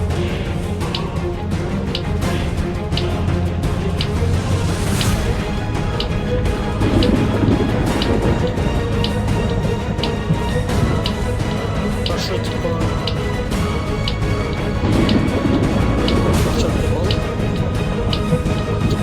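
A video game thunderstorm rolls on through a survival island session, steady rain hiss and low rumbling thunder swelling a couple of times, with a constant dense wash of sound.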